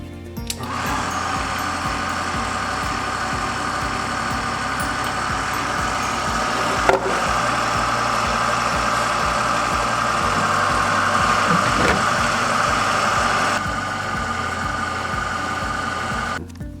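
A one-man polyurea pump runs steadily with buckets of solvent for cleaning, a continuous mechanical hum and rhythmic whir with a few clicks and knocks, loud and close, with no talk.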